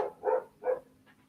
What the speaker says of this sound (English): go get my dog that's making all that noise